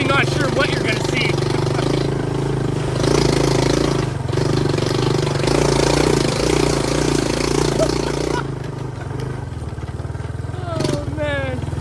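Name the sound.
Yamaha YTM200 three-wheeler engine on a trail ride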